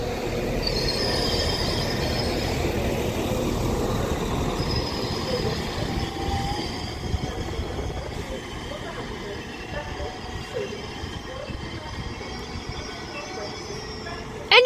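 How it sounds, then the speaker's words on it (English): Transport for Wales Class 197 train arriving at Birmingham International station, a steady rumble of wheels on rail with high squealing from the wheels as it slows, heard close with someone speaking over it. "this Transport for Wales Class 197 terminates it into Birmingham International now with the 11:50 service"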